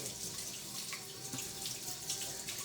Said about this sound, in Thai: เปิดน้ำเลยครับ เว้ยแรงไปปะ